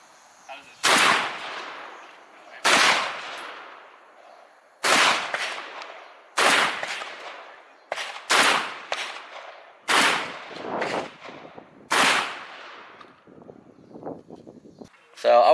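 A Benelli M4 Tactical shotgun fires at an outdoor range, about eight loud, sharp blasts spaced a second or two apart, each trailing off in a short echo.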